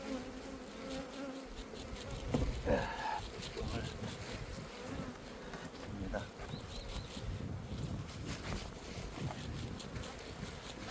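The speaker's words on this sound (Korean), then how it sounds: "바람이 이렇게 불어." Wind gusts across an outdoor beehive as bees buzz steadily nearby, a dense insect hum mixed with rumbling microphone wind noise and brief handling sounds.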